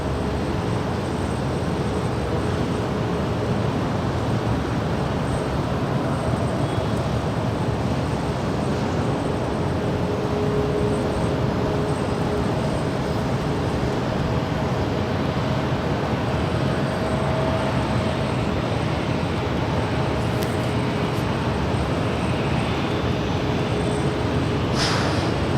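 An Air Canada Boeing 737 MAX 8 arriving from Vancouver on runway 24 right at Los Angeles airport, a loud, steady broadband jet roar that holds throughout without a clear rise or fade.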